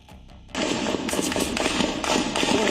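A dense, crackling burst of rapid gunfire from Pakistani Rangers at a protest breaks out after a brief quiet moment and keeps popping loudly and continuously, with overlapping shots echoing.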